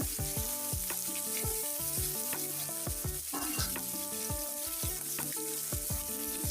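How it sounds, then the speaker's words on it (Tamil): Chopped onion, tomato, green chili and curry leaves sauté in a pan for an egg curry. The steady sizzle is broken by repeated scraping and stirring strokes in a regular rhythm, close and fairly loud, with no talking. "அதோட வெட்டி வச்சுருக்கிற பச்சை மிளகாய், தக்காளி பழம், வெட்டி வச்சுருக்கிற வெங்காயம் எல்லாத்தையுமே சேர்த்துட்டு நல்லா வதக்கி விடுங்க"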